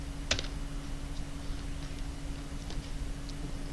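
A computer keyboard gives one sharp key press, like the enter key, followed by a few faint scattered taps over a steady electrical hum, with no voices.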